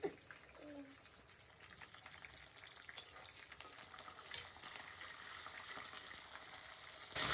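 Green chillies sizzle in hot oil in a pan over a medium flame, a steady close frying hiss with faint crackles and a few stirring clinks throughout.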